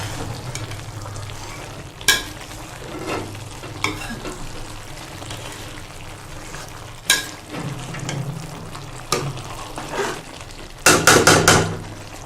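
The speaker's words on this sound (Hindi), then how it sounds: "अब हम इसमें फिर से चम्मच लगाएंगे और सारे मसालों को मिक्स करेंगे।" A spoon stirring radish pod and potato curry in a pot, with a soft sizzle underneath and repeated sharp metallic scrapes and knocks against the pan, closing in a quick flurry of clatters.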